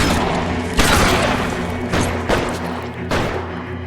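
Gunfire in L.A. Noire, several loud booming shots spaced about a second apart over a rumbling background, punchy and close with short echoing tails.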